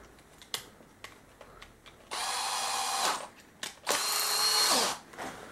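A power drill bores a 6 mm hole in two loud, high-pitched whirring bursts of about a second each, separated by short pauses, with scattered clicks and handling noises before and between them.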